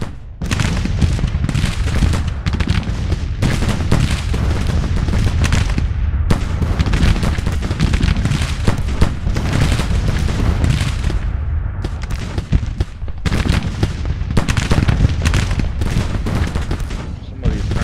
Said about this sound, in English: They're all about to turn and shoot at me now.